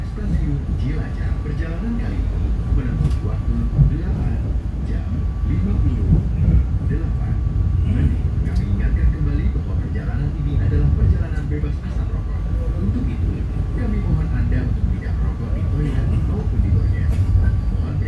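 Passenger train rolling on rails in Java, a steady continuous low rumble with faint rhythmic clatter throughout, heard from on board; a voice announcement may be present underneath.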